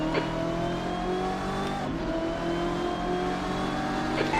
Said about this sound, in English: He made a bunch of really good sound mods for the GTE cars.